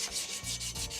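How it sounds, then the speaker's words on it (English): Wet sanding a Honda VFR400 NC30 wheel with 320-grit wet and dry paper, a quick series of close, rhythmic rasping strokes with no talk. "So I'm going to start the wet sand now"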